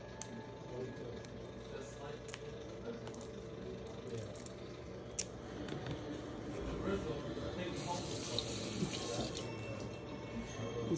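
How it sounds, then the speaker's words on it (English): A lemon is washed under a running kitchen tap, a steady, fairly quiet stream of splashing water that continues unbroken, with faint indistinct voice in the background. "I'm gonna take the sticker off and wash it off."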